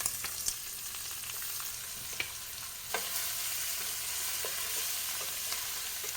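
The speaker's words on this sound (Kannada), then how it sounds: "ಈ ಪ್ರಾನ್ಸ್ ಅನ್ನು ಡೀಪ್ ಫ್ರೈ ಮಾಡೋದು ಬೇಡ, ಸ್ವಲ್ಪ ಎಣ್ಣೆ ಹಾಕಿ ಫ್ರೈ ಮಾಡಿದರೆ ಸಾಕು." Prawns shallow-fry in a little hot oil, giving a steady close sizzle with a few sharp pops and crackles scattered through, no voices.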